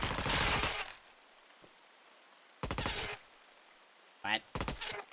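Short bursts of rapid gunshots from the Farworld Pioneers video game, three separate volleys with quiet gaps between them, fairly close and sharp.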